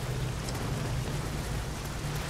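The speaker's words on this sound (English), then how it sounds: "Like, this is downpour." Heavy rain downpour in the video game Nioh, a dense, constant hiss of falling water with a low hum underneath, moderately quiet and with no talking.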